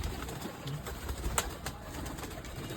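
Pigeons in a loft give soft, low, intermittent coos against a quiet room background, faint and close-by.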